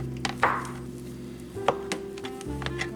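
A knife chops soft biscuits into small pieces for orange vanilla monkey bread, giving several separate dull taps and cuts close by, spaced irregularly over a steady low background hum.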